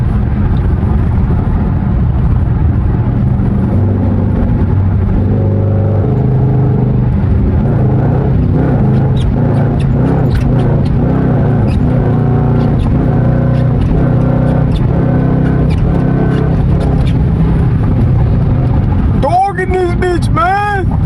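A loud car engine with the mid mufflers cut growls steadily and deeply at close range, its rumble rising and falling throughout, with a brief squeal near the end.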